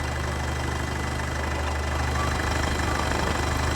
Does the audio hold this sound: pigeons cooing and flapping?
no